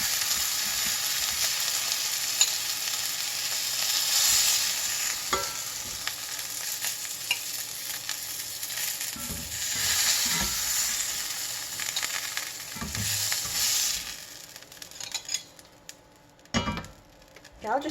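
Homemade breakfast sausage of fresh-ground home-grown chicken frying in a pan, a steady close sizzle with occasional clinks and scrapes of a utensil against the pan, no speech.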